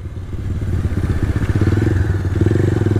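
A Bajaj Pulsar 220 built as a classic supermoto, ridden on a new toll road, its engine thumping in a loud, rapid, pulsing beat that rises and dips with the throttle, up close and without speech.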